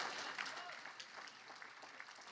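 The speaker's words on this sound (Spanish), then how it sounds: "Dele un aplauso al Señor," Church congregation applauding during a Pentecostal service, a steady continuous clapping spread across the room at moderate level, with some voices mixed in.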